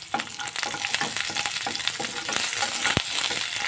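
Small pieces of ginger fry gently in hot oil, giving a continuous crackling sizzle with a few scraping stir sounds and one sharp knock of a utensil against the pan.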